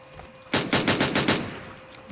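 Automatic gunfire in PUBG: a burst of about seven rapid shots fired some distance away, a steady rattling volley lasting around a second before trailing off into quiet.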